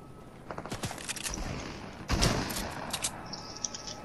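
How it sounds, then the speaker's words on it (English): Video game gunfire comes as irregular bursts of sharp shots, some rapid and some spaced out, at moderate loudness over background game noise. "Who the fuck is shooting me?"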